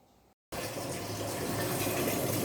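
Water pouring steadily while changing the water in a home aquarium, a loud continuous gushing fill that starts abruptly after a brief silence and runs on without pause, close by with no voices.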